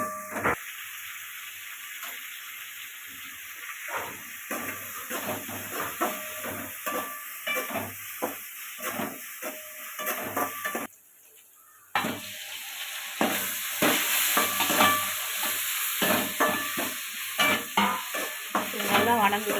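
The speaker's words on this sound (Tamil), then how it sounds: "வெங்காயத்தை சேர்த்துக்கிறோங்க. வெங்காயம் நல்லா வணங்கட்டுங்க." Chopped onions sizzle in hot oil in a pan while being stirred, a steady hiss broken by repeated scraping strokes, with a brief quiet gap before the frying resumes louder.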